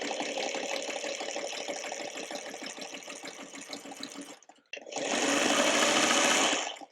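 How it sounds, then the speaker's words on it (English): A sewing machine stitches a seam on a quilt block for a spinning star pattern, with a fast, steady mechanical whir close by. It pauses briefly, then a second, louder and smoother run follows. "since I cut them exact, I'm going to sew right next to it"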